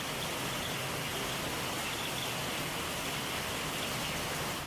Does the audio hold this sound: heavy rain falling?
yes